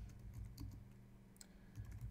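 Typing on a Mac computer keyboard while entering two lines of text in InDesign, a quick irregular run of soft key clicks, faint and close over a low hum.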